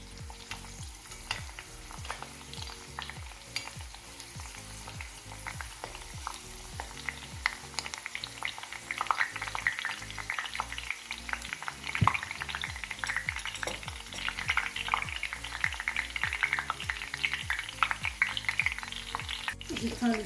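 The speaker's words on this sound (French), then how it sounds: "Je fais cuire à petit feu pendant 1 à 2 minutes" Aromatics cook gently in oil over low heat, a soft continuous sizzle with fine crackles that build slightly over about twenty seconds, fairly quiet and without speech.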